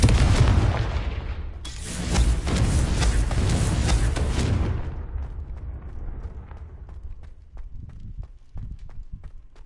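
A Confringo spell explosion in the video game Hogwarts Legacy, a loud roaring blast that swells and rumbles for several seconds, then fades into a faint tail of scattered taps and footsteps.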